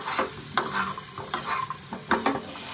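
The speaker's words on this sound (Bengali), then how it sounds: "এবার আমি এই সেদ্ধ করা আলুগুলো দিয়ে দিচ্ছি। আবার এটাকে এই মশলার সাথে খুব ভালো করে আলুগুলো একটু কষিয়ে নেব।" Boiled baby potatoes stirred and fried in spice masala in oil, a soft sizzle under repeated scraping strokes of a spoon against the pan, close and fairly loud.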